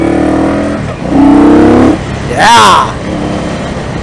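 Indian Scout Bobber motorcycle riding down the road, its engine rising in a steady rev and then roaring loudly in one close burst, with a shout and some talk mixed in around it.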